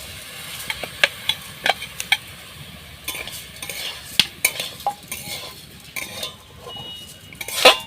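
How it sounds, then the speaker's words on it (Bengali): Raw rice being dry-roasted in a kadai for puffed rice is stirred constantly, with close, irregular metallic scrapes and clinks of the utensil against the pan over a light rustle of grains. "এবার চালটা কড়ার মধ্যে দিয়ে দেবো।"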